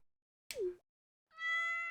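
A cat in a farming video game gives two short meows, a quick downward one and then a brief clear tonal mew after a pause, with no talking.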